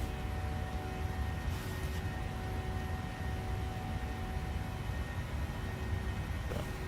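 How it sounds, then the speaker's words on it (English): Boeing 737-800 engines drone in Microsoft Flight Simulator during a climb, a steady broadband roar with faint constant tones running without pause. "If the plane is now a bit too loud, please tell me."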